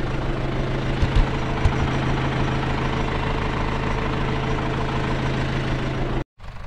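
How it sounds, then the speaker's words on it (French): A tractor engine runs in a farm field, a steady, loud mechanical drone that holds without change and briefly cuts out near the end before resuming. "du coup, je repars en tracteur"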